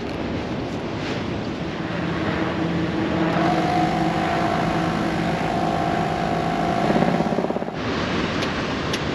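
An air compressor pumps 4WD tyres back up to 40 psi on a beach, a steady droning motor hum with wind and surf noise around it, running continuously and swelling slightly toward the end before a small drop.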